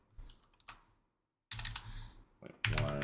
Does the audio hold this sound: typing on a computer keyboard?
yes